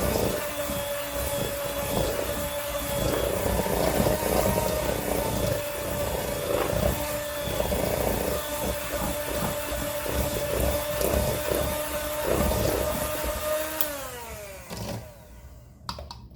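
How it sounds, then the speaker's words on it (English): An electric mixer whirs steadily as it blends eggs into pecan pie filling, a continuous close hum that winds down at the end. "it makes a big difference blending with the mixer 1 egg"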